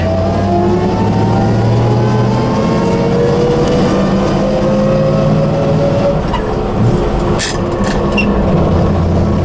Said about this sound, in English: We're going to take off in second. And we're going to double clutch. There's third.